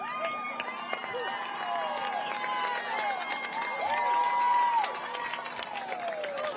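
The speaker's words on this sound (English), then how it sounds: "Cheering" Crowd at a high school football game, cheering that swells and fades from a distance while a play-by-play voice talks over it, with a steady tone humming underneath.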